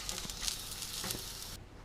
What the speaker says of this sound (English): cooking some potatoes here. Got a ripping hot fire to cook with.